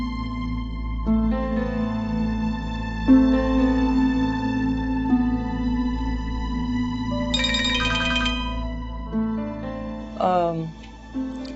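A phone rings repeatedly while a call is being placed, its tone steady over a drama's background music, with a few brief voice-like bursts near the end.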